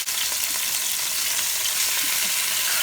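Garlic sizzles in melted butter in a pan, a steady close frying hiss with no voices.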